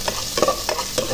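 Chopped ginger drops into a hot pot of oil for chicken tinola and fries with a loud, close, steady sizzle while being stirred, no voices.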